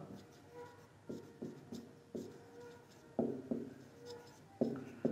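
Handwriting a maths solution on paper, a pen scratching in short strokes and bursts with brief pauses, fairly close and quiet, with no voices.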